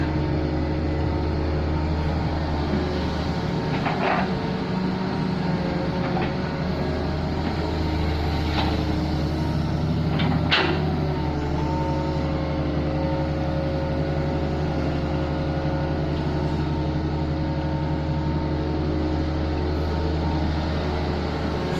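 A large excavator digging a big pond, its diesel engine held at a light, low rev, runs as a steady continuous rumble throughout, with a few brief clanks and knocks near the start and middle.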